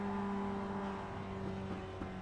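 Mazda MX-5 race car engine in a sim racing game at Long Beach, held at high revs with a steady loud drone and sustained tonal whine throughout, no voices.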